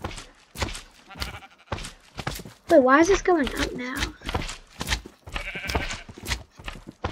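Sheep bleating in Minecraft, a few short wavering bleats in the middle of steady game audio with someone talking over it.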